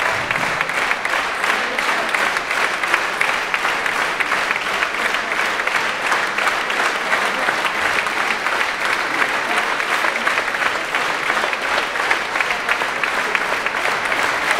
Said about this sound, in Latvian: Šobrīd klausītāju aplausis